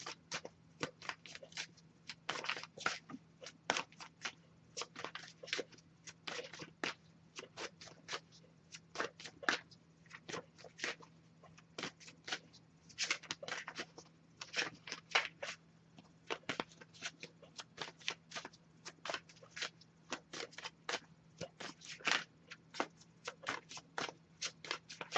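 An oracle card deck being shuffled over and over, with crisp rapid riffles and flicking bursts in uneven clusters, close and clear above a faint steady hum, with no one talking.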